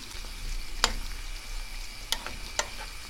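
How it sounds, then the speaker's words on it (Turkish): Tomato and pepper paste fries with onion in a pan, giving a soft, steady sizzle broken by three sharp scraping stirs, heard close and without talk. "Şimdi yavaş yavaş bu salçaları güzelce kavuralım. Soğanla birlikte."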